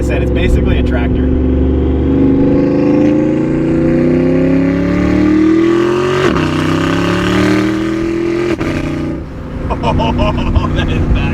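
Loud close revs from a Porsche Panamera Turbo fitted with side exhaust, pitch rising steadily over several seconds then dipping and climbing again, with people talking underneath.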